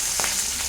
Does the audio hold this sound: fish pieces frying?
yes